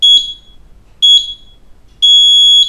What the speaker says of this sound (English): The last 3 seconds there'll be beeps, so you know it's coming